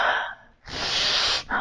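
A person imitates exaggerated breathing with a loud sharp gasp, a long forceful breath, then another quick intake, close and alone without speech.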